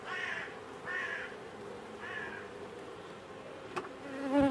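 A honeybee trapped inside a beekeeping suit during a Varroa treatment at the hive, buzzing in several close, moderately loud bursts that rise and fade, with a short sharp click near the end.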